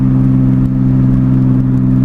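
A loud car engine drones steadily while driving, its car still leaking oil, with a strong, even low hum and whirring clatter running unbroken throughout and no talking.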